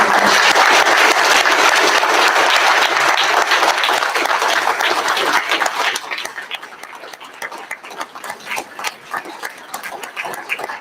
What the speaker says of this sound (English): would you all join me in a round of applause to thank your host?